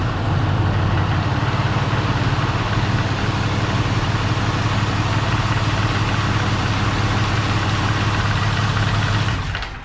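A Ford truck's 6.7 Cummins diesel with the EGR deleted idles close by, a loud, steady clattering rumble that runs unbroken before cutting off at the very end.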